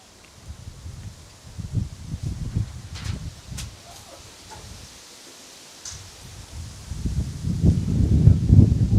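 A wind gust buffets the microphone outdoors at an American Legion baseball game, a low, rough rumbling that comes in waves and swells loudest near the end, with no voices.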